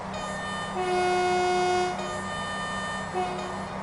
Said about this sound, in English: Give him a toot as we go past